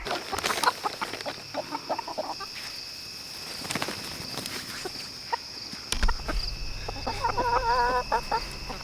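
Cornish Cross chickens cluck over scattered treats, a busy chorus of close, overlapping clucks and squawks with a livelier burst of calls toward the end, and no talking.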